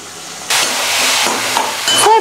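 Onions, garlic and curry leaves sauté in oil over a high flame with a steady, bright sizzle and hiss, broken by a few stirring scrapes.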